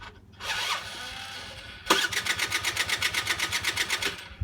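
A Peugeot Ludix moped engine cranks over without firing, a rapid rhythmic chugging that goes on for a couple of seconds after a brief whir at the start.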